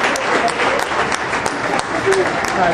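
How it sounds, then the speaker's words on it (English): An audience on a backlot tram tour gives a big round of applause, loud continuous clapping with crowd noise and some voices mixed in throughout. "Everybody give her a big round of applause."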